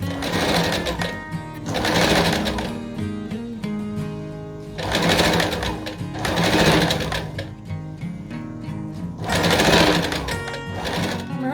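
A sewing machine runs in bursts, stitching along pinned seams and darts of dress fabric, steady mechanical whirring repeating close-up in several passes with short pauses between and no talking over it.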